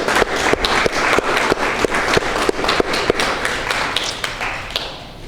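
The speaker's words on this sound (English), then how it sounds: "So really round of applause for the families and the promotees" A round of applause at a police promotion ceremony for the families and promotees: many hands clap in a crisp, steady run of sharp, fairly close claps that fades slightly at the end.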